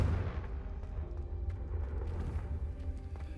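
Confringo spell blast in the video game Hogwarts Legacy, a loud deep booming burst that rumbles and decays with scattered crackles, heard alone without speech.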